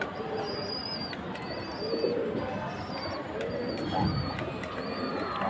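A male Naptha pigeon coos repeatedly at close range, soft rounded calls rising over a steady bed of background noise, with thin high chirps from other birds scattered throughout.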